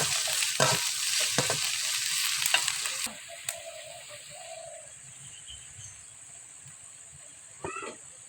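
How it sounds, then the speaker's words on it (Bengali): Chicken stirred in a pan with onion, spices, cinnamon and cardamom for a bhuna, a loud close sizzle for about three seconds, then a quieter stretch with birds cooing in the background. "এখন এই মাংস ভুনা করার জন্য পেঁয়াজ, তারপরে মশলা, দারচিনি, এলাচ সব কিছু এখানে দিয়ে"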